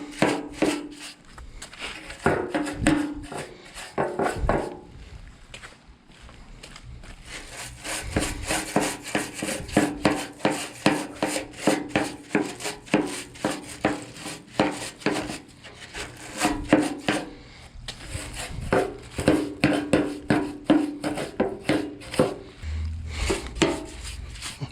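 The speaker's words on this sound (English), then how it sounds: "the corners is kind of hard to get with the big broom, so I try to get the excess out of there like that" A big push broom scrapes and rubs across pavers, sweeping excess material before sealing, in a steady run of rough, rhythmic strokes that carries on close by for the whole stretch with no talk.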